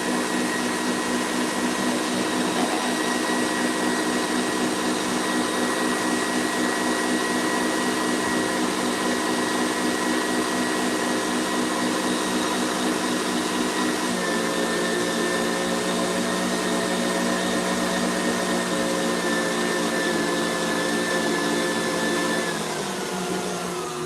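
An electric stand mixer whisks meringue for Hello Kitty–style macarons, giving a loud, steady motor whine that runs unbroken throughout and shifts pitch partway through as the speed changes, with no talking.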